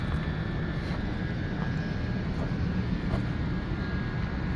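A Trane package HVAC unit that is not cooling enough runs outdoors, its blower giving a steady broadband rumble and whoosh with a faint tonal hum, unbroken throughout.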